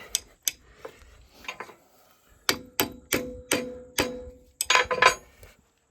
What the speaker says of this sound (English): Sounds like a torque wrench, doesn't it?